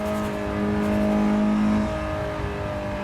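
A car engine in a racing video game hums and revs steadily after a clutch kick, holding a smooth tonal whine that rises slightly and then settles. No voice is heard over it.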